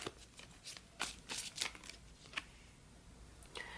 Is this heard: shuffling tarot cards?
yes